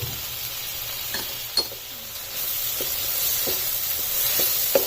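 Mutton jalfrezi stirred with spices in a sizzling pan, a continuous close frying hiss broken by several sharp spoon scrapes and clinks against the metal.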